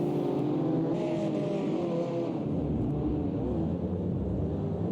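Race car engines drone and rumble steadily in a GTL sim racing battle at a Long Beach street circuit, several cars close together holding a continuous loud engine note with shifting pitch throughout.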